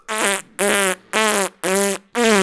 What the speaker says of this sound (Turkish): Osuruyorum.